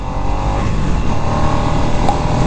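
A 2024 Harley-Davidson Nightster motorcycle engine accelerates in sport mode, giving a loud, continuous, close-up roar with no talk over it.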